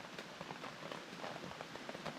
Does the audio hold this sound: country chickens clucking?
no